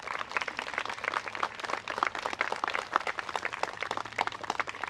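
An audience at a commemorative ceremony for the Battle of the Hook applauds with dense, continuous clapping, moderately loud and steady throughout.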